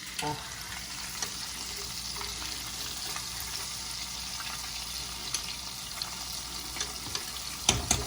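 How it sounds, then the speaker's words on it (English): Stuffed shrimp fry in a pan, giving a steady crackling sizzle throughout with a few sharp pops and stirring clicks near the end. "Just let that fry while we continue to fry this."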